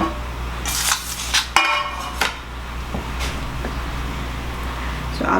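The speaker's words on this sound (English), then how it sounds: "So I'll just evenly divide the batter out." Cake batter is scraped and poured from a mixing bowl into non-stick baking pans for a Neapolitan cream cake, with scattered metallic clinks and knocks of utensil against pan over quiet kitchen background.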